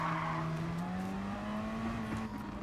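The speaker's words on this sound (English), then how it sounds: "That BMW sounds good." A BMW race car in Gran Turismo Sport drones steadily at high revs for the whole stretch, its engine note rising slowly as it holds speed, loud and close with no talk over it.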